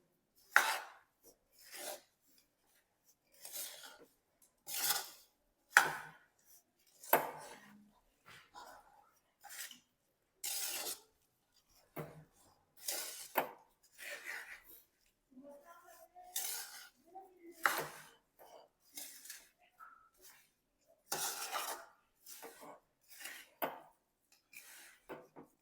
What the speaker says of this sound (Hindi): अब मिक्स करके और बनाएंगे लड्डू।